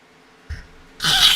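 A single close sneeze, preceded by a short sharp intake of breath, bursts out loudly on its own against a quiet background.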